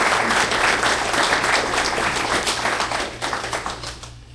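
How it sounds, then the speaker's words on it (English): Guests at a Christmas party give the board members a round of applause, loud and sustained clapping from a roomful of people that thins and tapers toward the end over a steady low hum. "let's give all the board members a round of applause"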